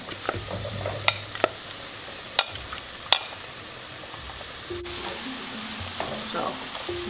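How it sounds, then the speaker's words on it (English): Ackee and jackfruit sautéing in a pan for a vegan Jamaican dish, a steady sizzle with a few sharp utensil clicks against the pan and sounds of stirring. "So we're going to saute this."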